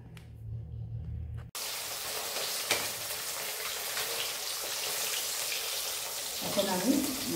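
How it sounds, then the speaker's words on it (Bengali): Fish coated in salt and turmeric fries in hot oil, a sudden, loud, continuous hiss and crackle that starts after a short lull and holds steady, swelling slightly toward the end. "এখন আমি মাছটাকে নুন হলুদ দিয়ে মেখে ভেজে নেব।"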